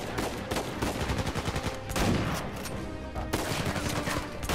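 Gunfire in the video game Uncharted 4, a dense run of rapid sharp shots and booming blasts, loud and close, with a brief pause midway and shooting resuming.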